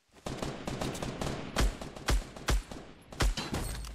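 Gunfire in the video game Fortnite: rapid bursts of shots in quick succession, loud and close, with several heavier booming reports standing out, and no talk.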